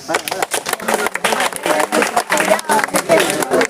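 Audience clapping at a Tamil talk about crabs and pesticides, a short burst of irregular hand claps with crowd murmur, loud and close.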